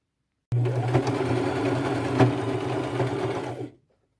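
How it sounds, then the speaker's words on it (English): A sewing machine stitches small fabric scraps onto the bottom hem of a sweater, running in one steady, close whirring burst of about three seconds with a few sharp clicks, then stopping. "you're just sewing the center of these little scraps onto the bottom of the sweater"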